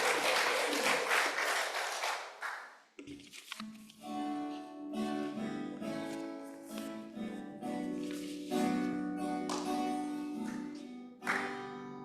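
A church congregation claps at a Sunday service for two students about to sing. About three seconds of dense clapping come first, then it fades as sung music with sustained instrumental tones takes over.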